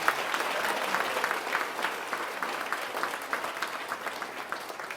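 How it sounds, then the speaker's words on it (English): An awards ceremony audience applauds the honorees, a dense, steady round of clapping from many people at a moderate distance, tapering slightly toward the end with sharper individual claps standing out. "Let's give them a round of applause this morning."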